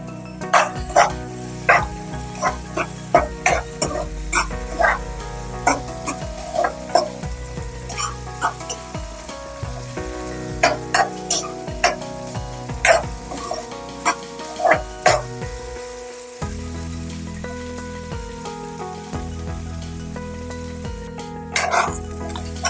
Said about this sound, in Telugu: ఆనియన్స్ ఈ విధంగా వేగుతూ ఉండగా ఇందులోనే అల్లం వెల్లుల్లి పేస్ట్ ఒక స్పూన్ వేసుకుంటున్నానండి